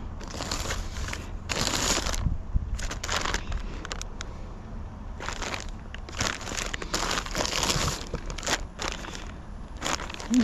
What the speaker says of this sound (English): These are just little plastic bags.